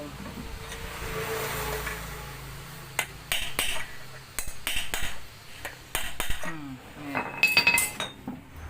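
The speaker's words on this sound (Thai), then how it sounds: "นำจานไฟนะครับมาใส่ได้เลย" Metal parts of a Yamaha RXZ135 engine clink and tap sharply as they are fitted during assembly. The clicks come in irregular clusters, close by, with some quiet talk between them.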